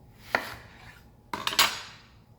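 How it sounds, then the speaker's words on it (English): A knife splits a red onion on a cutting board, giving one sharp knock and then a quick cluster of three clicks, close and fairly quiet with no talking. "And now we are going to do red onion. Split this onion."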